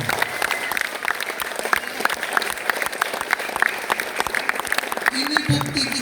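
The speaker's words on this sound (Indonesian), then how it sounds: "apresiasi, kita tepuk tangan untuk para petugas hari ini" Students and teachers clap for the officers at a school flag ceremony marking Indonesian Independence Day, a loud, uneven burst of applause carrying through with voices and a brief tone near the end.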